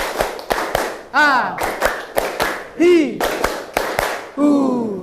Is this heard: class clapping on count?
yes